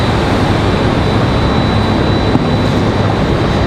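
A Southwest jet arriving to land at Raleigh-Durham International, a loud, steady broadband engine roar filling the whole stretch at close range with a faint high whine above it.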